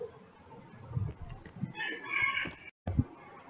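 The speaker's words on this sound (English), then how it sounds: "So this is my rooster, Dino" A rooster named Dino crows through the middle of the clip, a drawn-out call standing out over rustling farmyard background noise, with a few low clucks and thumps around it.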